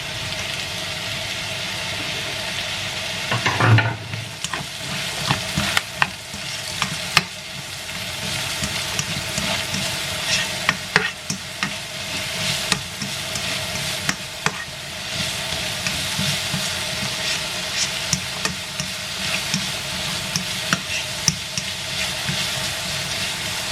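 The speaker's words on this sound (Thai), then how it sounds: "ผัดหัวหอมเนาะหัวหอมใหญ่" Large onions are stir-fried in a hot pan, a steady sizzle running throughout with repeated scraping and clacking strokes of a spatula, close and fairly quiet, with no talking.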